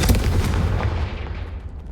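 A Confringo blasting spell explodes in the Hogwarts Legacy video game: a loud, booming blast with a heavy low rumble that fades gradually over about two seconds, with no voices.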